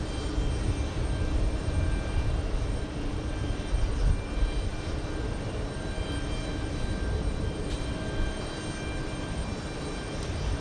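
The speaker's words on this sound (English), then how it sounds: "So we have a 747." At JFK airport, a Boeing 747 jet produces a steady, broad engine roar, loud and sustained at a moderate distance, with no voices heard over it.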